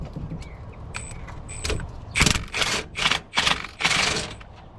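A ratchet wrench fitted with a swivel and a 14mm socket turns a bolt on a Chevrolet Silverado 4x4, giving several close, loud bursts of rapid ratcheting clicks separated by short pauses.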